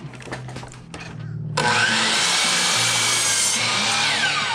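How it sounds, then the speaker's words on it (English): A power saw cuts a compound miter in a wooden framework piece, first a few short clicks and whirs over a low hum, then a loud, bright, sustained cutting whine through the wood that lasts to the end. "Okay, so now I've got that compound miter of this way and that way. So let's cut the first cut."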